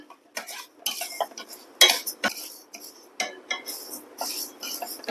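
A spoon scrapes and clinks against a pan in short, irregular strokes while garlic and dal roast in oil over a low flame, close and clear with quiet gaps between the stirs.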